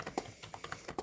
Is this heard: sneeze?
no